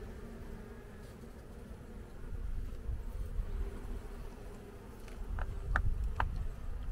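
Honeybees buzz around an opened hive during a spring inspection at an apiary in Artvin, a steady low drone with a few sharper passing buzzes.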